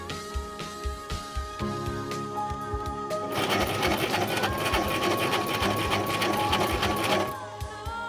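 A sewing machine stitches fabric for baby pants with straps, sized 3–6 months. It runs softly at first, then whirs loudly and steadily in a fast, rattling stitch for several seconds before slowing at the end.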